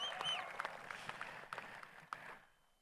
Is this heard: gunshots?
no